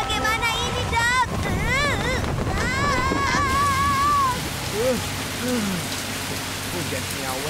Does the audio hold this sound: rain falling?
yes